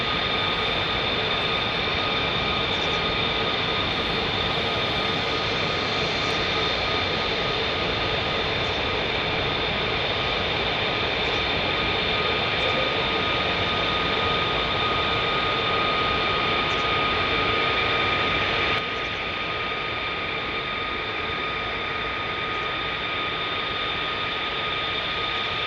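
An A-10 Tank Buster jet at RAF Lakenheath gives off a steady, loud engine roar with a whining tone that holds for nearly the whole stretch, easing slightly toward the end, with no talking.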